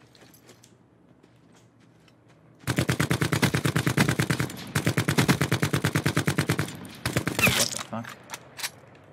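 Rapid automatic gunfire from an unscoped gun in Call of Duty: Blackout, with two long, loud, evenly spaced bursts followed by a few scattered shots. A man exclaims during the firing.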